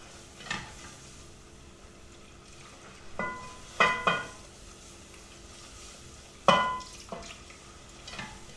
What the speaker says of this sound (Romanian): Acum adăugăm lapte, puțin câte puțin, amestecând energic.